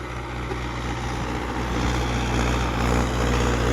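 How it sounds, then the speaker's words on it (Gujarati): A Mahindra Yuvo tractor pulls a disc harrow through a field, its engine droning steadily and loudly at close range with a low rumbling hum and broadband mechanical noise, no voices. "કેવું ચાલે છે ટ્રેક્ટર।"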